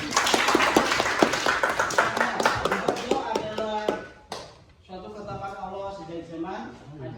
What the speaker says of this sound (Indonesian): Kita beri aplaus dulu kepada Fajri